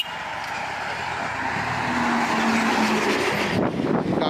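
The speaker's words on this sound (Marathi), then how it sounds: "गाडयो बी कश्यो येतात त्यो." Cars passing at speed on the Bambolim highway in Goa at night, a loud rising whoosh of tyres and engine as a vehicle sweeps close by, building toward the middle and tailing off.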